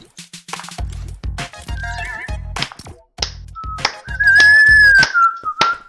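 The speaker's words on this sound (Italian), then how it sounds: "non devi fischiare, bro, non devi fischiare" Someone whistles a shrill, wavering tune up close, mixed with rhythmic thumping beats and sharp whacking hits.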